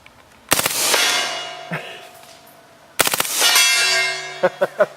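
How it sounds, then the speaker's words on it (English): Full-auto bursts from an HK MP5 9mm strike a steel gong, each burst of rapid shots setting off a loud metallic clang that rings and slowly decays, followed by a few separate sharp cracks. "I know you're going to be mad at me if I don't try to hit the gong full auto"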